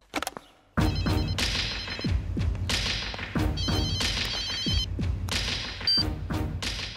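A telephone rings repeatedly in bursts of bright, electronic tones, mixed with thumps and sharp hits from a dramatic film soundtrack.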